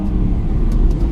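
Aston Martin AMR driving through Monaco, its engine a loud, steady low rumble that runs unbroken for the whole moment with no voices over it.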